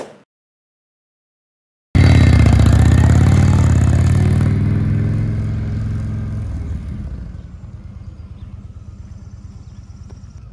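A motorcycle ridden during riding practice for a licence exam at Fort Washington National Park starts after a silent gap with a loud, close engine rumble that slowly fades as it pulls away, leaving faint idling-like clatter.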